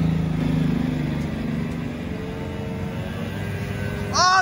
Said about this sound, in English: We got a golf cart versus pit bike.